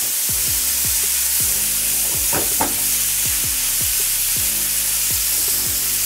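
Pork belly sizzles loudly in a hot pan while being stirred and turned, with a constant fry hiss and regular scraping strokes of a utensil against the pan, close and alone.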